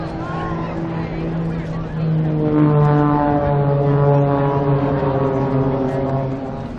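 A propeller airplane drones steadily at the Thunder over Georgia airshow in 2016. Its tonal hum swells louder partway through and holds as a close, sustained engine sound.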